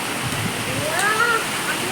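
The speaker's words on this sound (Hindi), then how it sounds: "ये देखो कितनी तेज बारिश हो रही है यार" Heavy rain pours down in a continuous loud hiss and splatter, with a person talking over the downpour.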